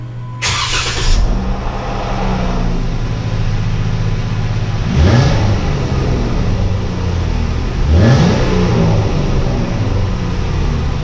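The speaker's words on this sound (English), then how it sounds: "let's take a look at the cold startup from last video" A Jeep Wrangler JK fires up on a cold start with a sharp burst, then settles into a loud steady idle broken by two quick revs that rise and fall.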